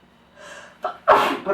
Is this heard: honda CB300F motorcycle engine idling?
no